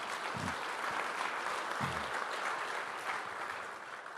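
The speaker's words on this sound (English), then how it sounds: "Please, a round of applause." An audience at a political event gives a round of applause, a broad, continuous clapping sound heard from a moderate distance. It fades slightly toward the end, with a couple of low thumps underneath.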